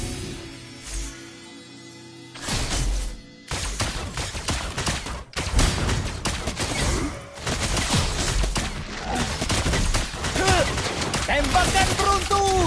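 Rapid bursts of gunfire from a character's lightning skill in a video game, loud and dense, repeated across the clip amid other game effects and music, with some voices present.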